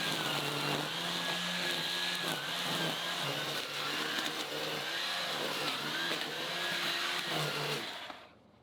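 A loud, steady motorized whine from power tools on a homestead runs continuously for several seconds with slight pitch wavering, then cuts off abruptly at the end.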